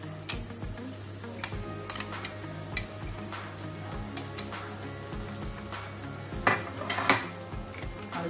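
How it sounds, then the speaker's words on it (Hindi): Utensil scraping and stirring a wet mixture of marinade with onion, capsicum and beetroot in a pan, with steady close clinks of spoon on metal and a low sizzle underneath throughout, no talking. "इसे अच्छी तरह से मिक्स कर लेंगे"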